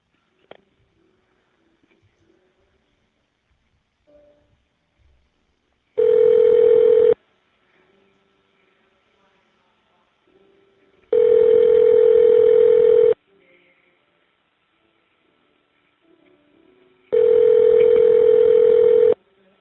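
Three long electronic tones, each a second or two, sound alone at regular intervals on a prison inmate phone line as a telephone number is dialed, with near silence between them.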